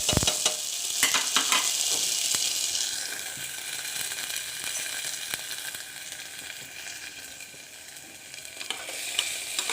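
Diced potatoes with cumin seeds and green chili frying in peanut oil, a steady bright sizzle throughout with occasional stirring scrapes, loudest at the start and easing slightly before swelling again near the end.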